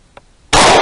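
During a thermal night hog hunt, a single rifle shot firing a Berger VLD-Hunting bullet bursts out loud and close from a stand after near silence. The blast fills the rest of the moment.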